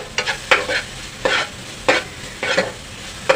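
Salt and spices sautéed for a spicy egg masala, with a spatula scraping the pan in about six distinct strokes over a low sizzle, close and clear, no talking.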